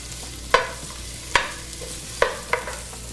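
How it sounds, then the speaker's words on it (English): Large sliced onions being sautéed in a pan, a low steady sizzle broken by four sharp utensil clacks against the pan, spaced unevenly and heard close up with no talking. "To that, I'm going to add a couple of large sliced onions. I'm going to give that a saute around the pan."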